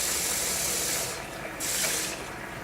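Water pours from a tap into a pot of rice for dahl and rice, a steady, fairly loud rushing flow that briefly dips and resumes.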